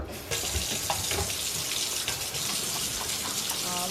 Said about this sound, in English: Washing our good old hands with the antibacterial soap.